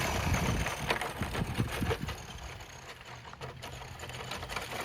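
A Tamiya BT-01 RC car driving on dirt at full throttle gives a loud, whirring electric motor buzz with gritty tire scrabble, strongest at first and then easing to a steadier hum.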